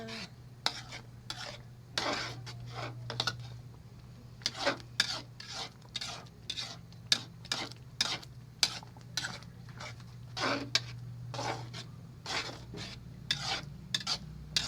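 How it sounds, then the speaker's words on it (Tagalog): Milk being stirred in a pan while it cooks for spaghetti, with repeated scraping, rubbing strokes of a utensil against the pan over a low steady simmering hum, close and moderately loud throughout. "Pakuluin na lang natin lutuin na lang natin yung gatas para pwede na natin ihalo sa ating spaghetti"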